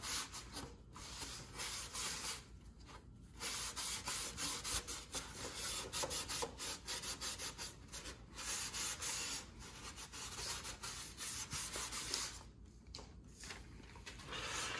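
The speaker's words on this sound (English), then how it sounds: "And let's wipe this whole bottom off with our tack cloth now." A tack cloth wipes across the bottom of a balsa RC plane fuselage, giving a faint, steady rubbing hiss with short pauses where the cloth lifts.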